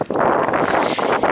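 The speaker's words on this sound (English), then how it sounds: "It's very windy." Strong wind buffets the microphone on Dunkery Beacon, an open hilltop in Exmoor, a steady loud roar with gusty swells and no speech.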